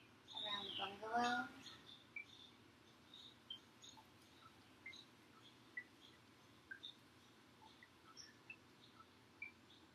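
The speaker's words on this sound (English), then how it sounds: "you're going to hear the sounds of the birds here and around the bungalow" Small birds chirp and tweet sporadically at a distance around a bungalow in Mexico, faint repeated calls scattered over quiet background, with a brief louder burst near the start.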